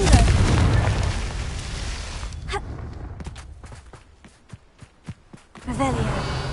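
Confringo blasting spells detonate in Hogwarts Legacy: a loud rumbling blast fades out, followed by a run of sharp, quick pops, then another swelling burst, with a voice speaking near the start.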